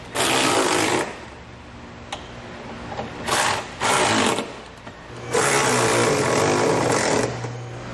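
Power tool snugging down bolts on an EcoHitch hidden trailer hitch on a 2017 Kia Soul, heard as several loud whirring bursts of a second or two each, separated by short pauses.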